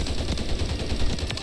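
Rapid gunfire from the Special Carbine rifle in Call of Duty, a dense, continuous burst of close shots fired with a 20-round magazine, loud and unbroken throughout.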